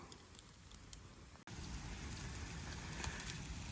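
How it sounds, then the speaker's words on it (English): Light rain patters steadily onto leaves and ground in the woods beneath tree cover, a dense even hiss of drops with a brief dropout partway through and no voices. "It's raining a little bit, but we're pretty well covered by the tree here."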